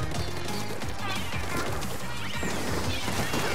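Firework bombs burst during a Splatoon 3 festival match, with repeated crashing blasts packed densely over busy game sound effects throughout.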